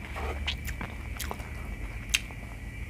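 Someone eating spicy Thai stir-fried chicken giblets and liver with holy basil over rice, soft wet chewing and a few crisp bites up close, with one sharper click partway through and a steady faint hum behind.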